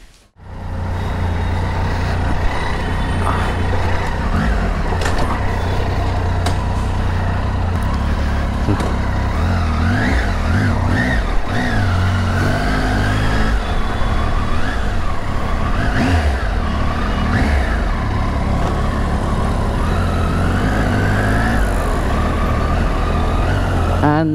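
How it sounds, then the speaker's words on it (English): A motorcycle engine rumbles up and rides off on a road in Chennai, its low throttle drone steady and loud for a long stretch with shifting revs and traffic noise around it. "Let's go load the motorcycle and"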